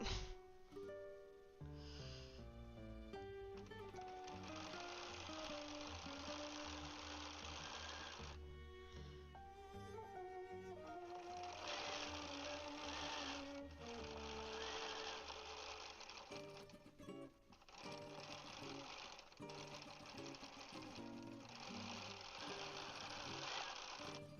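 A Bernina 790 Pro sewing machine quilting runs in long, continuous motor bursts with rapid stitching rhythm, pausing briefly and changing speed, loud and close with no talking.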